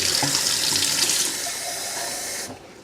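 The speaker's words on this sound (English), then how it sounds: "let me get some tap water at room temperature" Room-temperature tap water runs from a faucet into a sink or glass, a steady close rushing splash that shifts to a thinner stream and then shuts off abruptly near the end.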